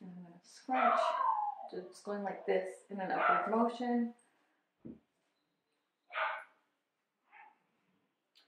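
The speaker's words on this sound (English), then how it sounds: "You can probably hear my dog barking." A dog's barks and yips sound at a distance, a few short separate bursts following a stretch of close talk.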